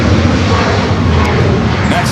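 An airliner taxis onto taxiway Kilo at LAX, a loud, close, continuous engine roar, with a voice talking over it.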